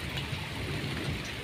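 Steady rain falls on plant pots in a self-watering crop garden, a dense, even hiss of drops that stays constant throughout with no voices.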